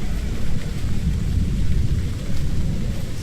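Heavy rain pours steadily in the video game Hellblade: Senua's Sacrifice, with low rolling thunder rumbling beneath the constant hiss of falling water.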